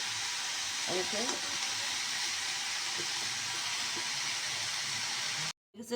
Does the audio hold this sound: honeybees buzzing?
no